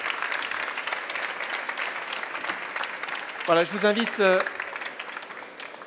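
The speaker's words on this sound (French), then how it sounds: "On peut vous applaudir." Applause from an audience at the opening of the Batimat building trade show, steady clapping running through the whole clip while someone speaks over it, with a brief louder voice in the middle.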